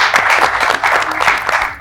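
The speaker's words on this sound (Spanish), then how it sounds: "un aplauso por favor" A studio audience at a Spanish-language talk show applauds, giving a loud, dense burst of clapping that stays steady for about two seconds.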